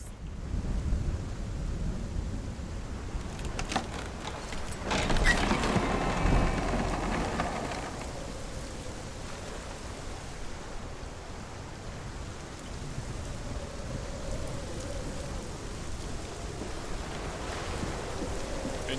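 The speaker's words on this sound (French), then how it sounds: "Une petite tempête, ma foi." Stormy wind and rain in the video game Hellblade: Senua's Sacrifice, a continuous roaring downpour with a louder gusting surge early on before settling into a steady wash.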